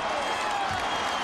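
Penn State fans roar in a stadium during a 2001 football game against Miami, a steady, dense wash of crowd cheering with a commentator's voice carrying over it.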